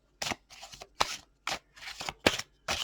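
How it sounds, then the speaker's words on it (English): Crisp riffling and snapping of a deck of tarot cards being shuffled, several quick bursts in a row with short pauses between, close up and alone. "So I'm going to shuffle cards a bit extra."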